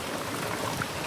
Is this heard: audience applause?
no